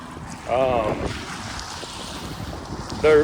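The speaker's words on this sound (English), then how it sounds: "Just cruising around on the J14, pull up to the sandbar" A Carolina Skiff J14 cruises across open water with steady engine and hull rumble, wind buffeting the microphone and water rushing past, while voices come and go briefly over the noise.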